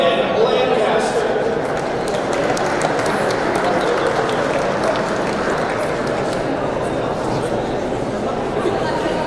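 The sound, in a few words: audience applause at a scholarship recognition event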